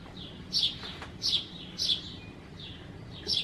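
Birds chirp outdoors in the morning in a quiet setting, with bright short tweets coming in a few evenly spaced bursts over faint background hiss.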